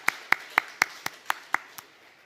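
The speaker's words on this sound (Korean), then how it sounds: "박수로 함께 축하하겠습니다" A church congregation applauding during a Sunday service, heard as eight evenly spaced sharp claps, fairly close and moderately loud, tapering off after about two seconds.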